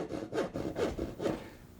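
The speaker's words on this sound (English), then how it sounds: "you want to go back with a hand saw and putting it at an up and down angle, you want to make your final cut" Hand saw cutting through a wooden stair stringer, four steady rasping strokes in even rhythm, close and moderately loud, with no talk.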